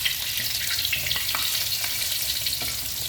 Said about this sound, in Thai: ทอดจนหมดค่ะท่านผู้ชมจ๋า ทอดจนหมด จนหมดชิ้นปลาค่ะ